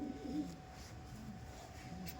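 Pigeons coo softly at low pitch amid a steady background hum, with a few brief, fairly quiet calls in a loft of Madras tournament-quality birds, some with closed tails.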